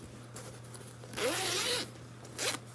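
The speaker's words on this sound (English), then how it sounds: "There's a top zipper." Zipper on top of a ThredUP Rescue Box pulled open: a few short scratchy tugs, then one long, loud, close zip, and a final quick burst near the end.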